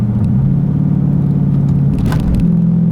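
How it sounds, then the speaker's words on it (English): A 2017 Dodge Charger R/T Scat Pack engine rumbles loudly and continuously up close in manual mode, with a brief shift in pitch as a gear change occurs partway through. "We'll put it into manual mode here though, just to show you how quick this thing actually manually shifts too."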